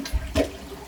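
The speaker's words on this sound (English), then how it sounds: "Let's see what we can do with flushing." Kohler Highline Curve toilet giving a brief partial flush, a quick gurgling whoosh of water lasting under a second, close by and fairly loud.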